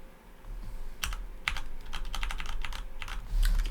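Typing on a computer keyboard, a close burst of sharp key clicks in quick irregular clusters, ending with a louder clatter over a low room hum.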